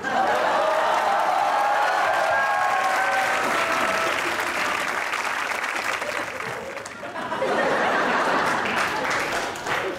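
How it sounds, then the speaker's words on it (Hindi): Studio audience on a comedy game show claps steadily and warmly, a dense wash of applause with a few chuckles, dipping briefly before swelling again. "खातिन हजरात आपकी भरपूर तालियों में"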